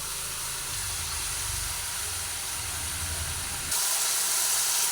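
Water is poured onto frying fish in a hot pan, giving a loud, continuous steam hiss and sizzle that jumps brighter and louder near the end, with no voices.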